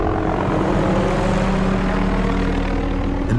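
Steady, loud droning engine with a low rhythmic rotor-like throb, continuous throughout with no pauses.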